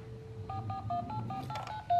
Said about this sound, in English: This is a Peppa Pig cell phone.